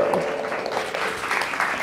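An audience claps at an event about children with cancer, giving a steady patter of applause mixed with a speaking voice.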